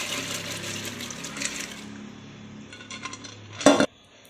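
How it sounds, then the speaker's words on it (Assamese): Soaked masoor lentils are tipped from a dish into a pressure cooker in a home kitchen, with a soft wet pour and a brief loud metallic clatter near the end. "এতিয়া কুকাৰটোত গোটেইখিনি দি ল'ম"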